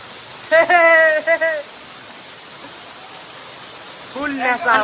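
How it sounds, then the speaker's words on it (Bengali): Tada waterfall in Tamil Nadu pours as a steady, broad rushing roar heard up close, with people talking over it at the start and end. "ওয়াটারফলের একদম সামনে আমরা চলে এসেছি"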